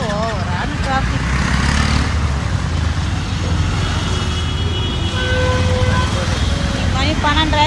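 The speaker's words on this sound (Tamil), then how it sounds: "டிராஃபிக்கு இதுலேருந்து ஓவரான டிராஃபிக்." Dense road traffic rumbles nearby as heavy vehicles and cars pass in a continuous loud drone, with occasional horns and a person talking over the noise.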